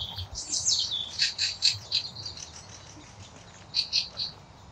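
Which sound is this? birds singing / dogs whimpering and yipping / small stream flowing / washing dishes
birds singing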